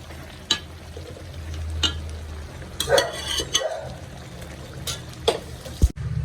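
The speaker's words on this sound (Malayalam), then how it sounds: "ചെറിയ ഫ്ലെയിമിൽ വെച്ചിട്ട് നന്നായിട്ട് വറുത്തിയെടുക്കാം" Beef varattiyathu roasting and being stirred in a pan over a low flame, with a soft continuous sizzle broken by sharp scrapes and clacks of a spoon against the pan and one heavier knock near the end.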